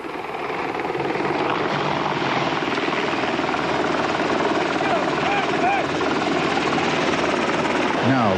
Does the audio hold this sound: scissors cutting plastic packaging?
no